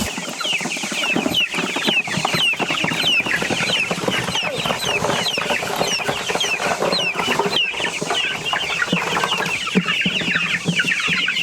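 Meat chickens in a chicken tractor keep up a dense, continuous chorus of clucks and chirpy peeps, close and loud throughout with no break, and a voice murmurs briefly underneath.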